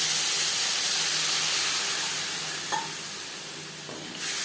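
Carrots and vegetable stalks sizzling in a pan as water goes in, a steady broad hiss of steam and frying that eases slightly before a sharp flare of sizzle near the end, with no talking.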